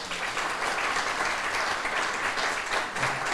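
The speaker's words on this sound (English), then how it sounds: "That deserves a round of applause" An audience claps steadily and densely throughout at a campus naming ceremony honoring John and Hazel Biggers, a sustained round of applause with no voices over it.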